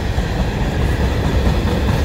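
Single-track main line between Montreal and Quebec City: a train hauled by one locomotive rolls past close by with a loud continuous rumble and rattle of wagons, no voices.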